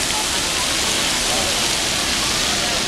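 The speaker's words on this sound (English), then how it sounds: "There's a giant bucket that drops a lot of water." A giant water-park bucket dumping its load, a loud continuous rushing roar of falling water and splashing that fills the whole moment, with a hint of people nearby.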